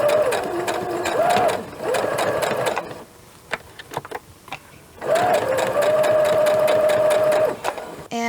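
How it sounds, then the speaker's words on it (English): Electric sewing machine stitching fabric for a face mask, running in two long steady whirring bursts with a pause between them, close and fairly loud. "I'm going to sew a 1/4 inch from the edge of the fabric"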